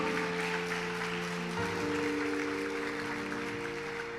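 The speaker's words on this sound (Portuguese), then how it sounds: "Dê um forte aplauso ao Senhor Jesus." A church congregation claps for Jesus in a steady, dense burst of applause lasting the whole stretch, with sustained keyboard-like musical tones ringing underneath.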